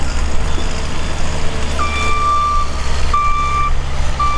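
A grocery delivery truck backs up at a boat ramp, its reversing alarm sounding a few spaced, steady beeps over a low, rumbling idling engine.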